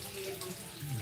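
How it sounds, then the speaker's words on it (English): Tap water runs into a kitchen sink to rinse breakfast food, a short, faint, steady splashing hiss. "I'm gonna rinse these off, dry them"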